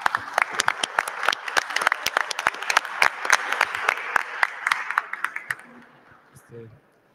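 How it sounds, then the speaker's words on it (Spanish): An audience at a water circularity panel in a municipal palace applauds with many distinct claps, steady for several seconds, then thinning out and fading as a few low sounds follow. "un aplauso para todos ustedes."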